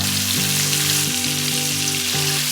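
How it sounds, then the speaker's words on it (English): Chicken searing in a hot pan gives a steady, close sizzle and crackle of frying that holds even throughout, with no voices, only a tonal background hum running underneath. "I'm just going to take the chicken and allow it to sear in"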